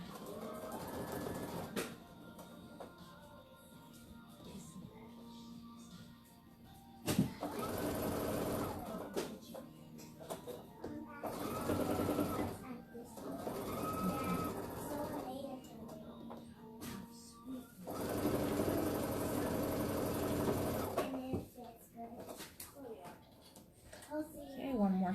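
A sewing machine stitches quilt seams on a jelly roll quilt in several separate whirring runs of a few seconds each, with a person talking in the pauses between them.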